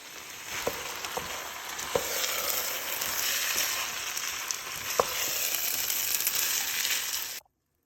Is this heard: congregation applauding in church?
no